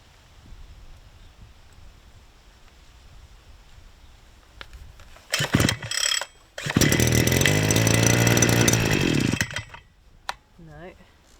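An Oleo Mac BC 550 brushcutter's two-stroke engine fires in a short burst, cuts out, then runs loud and close for several seconds with a harsh buzzing drone before stopping, with people talking briefly before and after.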